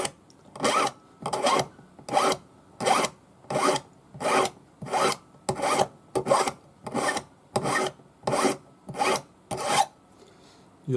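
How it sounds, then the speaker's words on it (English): Six-inch flat No. 2 cut hand file rasping across metal in steady, evenly spaced forward strokes, about a dozen rhythmic scrapes close up with brief pauses between each pass. "your 6-inch flat number 2 cut hand file, and if you scrub this sideways as you push forward"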